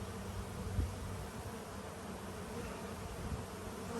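Honey bees swarm around a beehive at the start of spring, making a dense, continuous buzzing hum close by, with no breaks.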